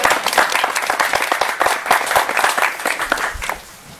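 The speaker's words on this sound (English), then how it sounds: "Let us clap for them," Guests at a church wedding ceremony clap for the newly vowed couple, a lively burst of close, crisp applause that carries on for a few seconds before fading quickly to near quiet.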